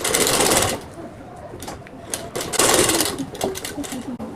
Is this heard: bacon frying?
no